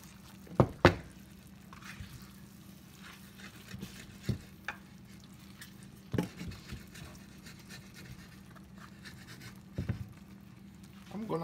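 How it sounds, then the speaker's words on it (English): A spoon stirs tomatoes in a frying pan for a Jamaican meal, with a few sharp clinks against the pan over a low, steady sizzle, close and quiet. "And now I'm gonna give it a stir."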